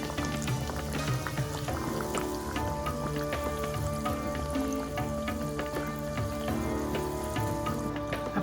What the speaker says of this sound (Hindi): अब ठेकुए काफ़ी अच्छे फ्राई हो गए हैं